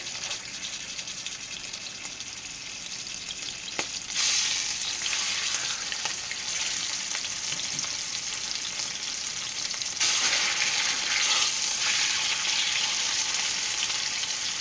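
Seasoned half-inch pork chops sear in bacon grease in a pan, a continuous loud sizzle and crackle that swells sharply twice as the meat is laid in and shifted.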